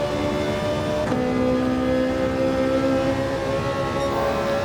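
Ferrari 458 Italia GT3 race car in Gran Turismo 7 holds a loud, steady high engine drone with a strong harmonic whine, a brief gearshift blip, then a climbing pitch as it accelerates, with no voices.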